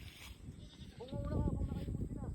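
A goat gives a short wavering bleat, close by on a small farm, rising over steady low background noise and faint voices.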